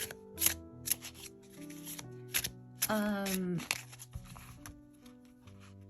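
A tarot card deck is shuffled by hand at close range, with soft rapid riffling and slapping bursts, one longer riffle mid-way, and a person talking briefly over it.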